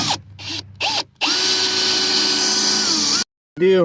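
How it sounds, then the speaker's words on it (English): A power drill whirs in short bursts, then runs steadily for about two seconds as it drives into wood, stops, and starts up again loudly. "just take it out and drill it again"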